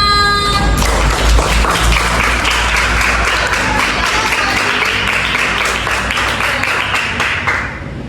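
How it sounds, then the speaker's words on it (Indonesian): A classroom of students applauds together at the close of a lesson, a dense, loud burst of clapping that holds steady for several seconds before thinning out at the end. "Tepuk tangan untuk kita semua."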